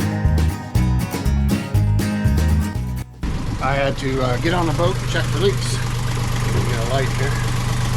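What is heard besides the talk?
boat engine running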